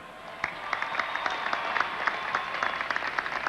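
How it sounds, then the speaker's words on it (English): A crowd at the Yankees' 1998 World Series victory parade applauds as a dense, moderately distant patter of clapping with scattered sharper claps, continuous throughout. "please give them some applause"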